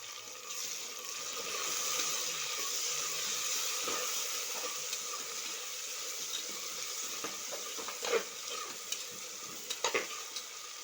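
Onion, garlic and ginger fry in a pan as tomatoes are stirred in, making a steady, close sizzle with scraping stir sounds that sharpen toward the end.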